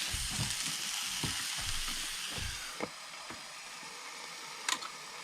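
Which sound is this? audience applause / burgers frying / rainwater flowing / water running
burgers frying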